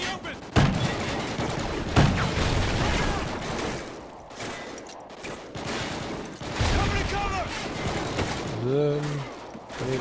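Gunfire rattles through a Call of Duty Ghosts battle, loud repeated bursts of automatic shots and heavy booms with brief pauses, mixed with mechanical clatter and some voices.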